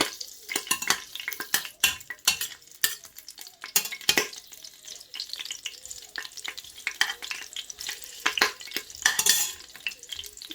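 Onions frying in hot oil for a kandia soup, crackling and sizzling close up with dense irregular pops, stirring scrapes and a few pan clinks throughout.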